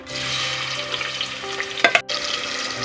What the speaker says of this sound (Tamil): இந்த வெங்காயம் நல்லா கோல்டன் ப்ரௌன் ஆகிற அளவுக்கு நல்லா வதக்கிக்கலாம்